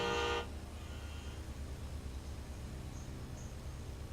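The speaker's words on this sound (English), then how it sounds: "Honk when ready." A car horn in a racing video game gives one short, bright honk at the very start, then fades into a steady engine drone and faint background noise with no further honks.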